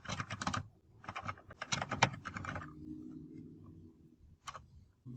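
Quick bursts of close keystrokes on a computer keyboard as a job name is typed, short clattering runs separated by pauses, with a final single tap.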